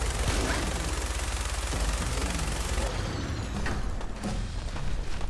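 Enemy gunfire strafing in Fallout 4 survival mode around Concord, a loud, sustained rattle of automatic fire and scattered bursts filling the whole stretch with little speech.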